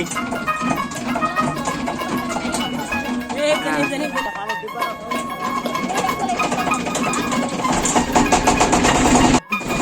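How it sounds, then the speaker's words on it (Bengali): A boat engine drones steadily while crossing the middle of the Meghna River in Raipura, Narsingdi, a continuous mid-pitched hum running under voices throughout. "নৌকা এখন চলে এসেছে মেঘনার মাঝখানে আপনারা দেখতে পাচ্ছেন মেঘনা নদী"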